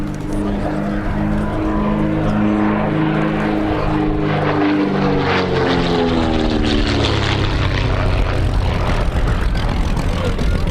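Historic propeller air racer, a streamlined two-seat monoplane with retractable undercarriage, flying at Shuttleworth, its loud continuous engine drone with shifting propeller harmonics as it passes, with someone talking over it throughout.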